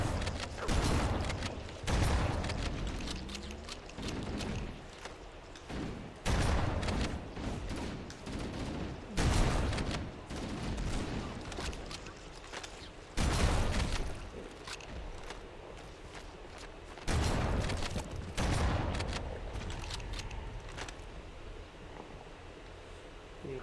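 Gunfire bursts in the video game Halo Anniversary come in repeated loud volleys with short pauses between, alongside rustling movement sounds.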